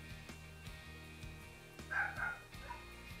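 Faint, distant dog barking from outside, a brief burst near the middle, heard over a constant low background hum.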